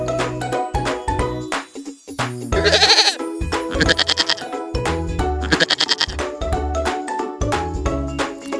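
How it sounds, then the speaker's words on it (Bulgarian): Goats bleat repeatedly, loud and close, their wavering cries mixed with bell jingles and shuffling in a busy farmyard. "Малкото на козата наричаме яре или козле."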